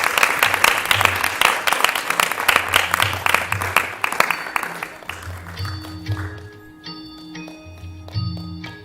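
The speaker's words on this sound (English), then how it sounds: "A hand of applause would be absolutely appreciated." Crowd applause at an Easwaramma Day celebration as children walk onto the stage, dense clapping that thins midway and gives way to a steady tonal musical background.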